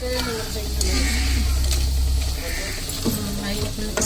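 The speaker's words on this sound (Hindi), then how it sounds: "तो बस सिर्फ जो है ना कुकिंग ऑयल में डालते जाना है, फ्राई करते जाना है" Potato pakoras frying in hot cooking oil in a home kitchen, a steady close sizzle running under nearby talk and clinking kitchen sounds, thinning out toward the end.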